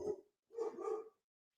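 A dog barks outside, one short bark followed by a longer double bark, moderately distant and fairly faint, with quiet gaps in between.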